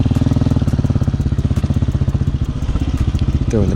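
A Hawk 250cc dual sport motorcycle engine held on the throttle alone, a close, loud, rapid thumping putter that stays even and then briefly rises near the end.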